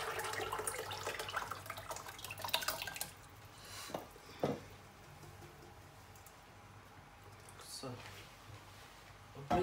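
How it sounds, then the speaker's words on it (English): Meat stock poured into simmering jollof rice tomato sauce, a running liquid splash with occasional drips and clinks, while a person talks over it. "The next thing that will come in now is the meat water."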